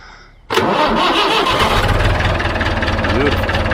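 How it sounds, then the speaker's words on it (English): A vintage David Brown DB990 tractor engine cranks and catches after a brief pause, then settles into a loud, steady, rumbling run close by, with no talking over it. "Alright, I'll start her up and try those hydraulics."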